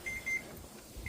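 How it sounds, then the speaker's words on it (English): A kitchen oven timer beeps while meatloaf and roasted potatoes cook, sounding short high electronic tones over a steady background hum. "Okay, our timer's going off,"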